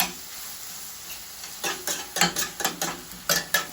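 Shrimp and broccoli fry in a pan with a steady sizzle, and from midway a run of sharp scraping stirs breaks in at regular intervals. No one speaks.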